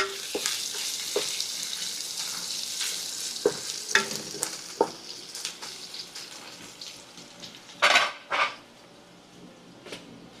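Tomatoes and onion frying in a pot for chicken vindaloo, with a steady sizzle broken by scraping stirs and a couple of louder bursts near the end.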